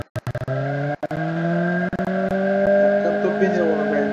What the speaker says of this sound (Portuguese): Já cantou pneu, Uno, velho.